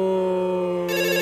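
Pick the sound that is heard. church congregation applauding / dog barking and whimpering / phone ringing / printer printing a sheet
phone ringing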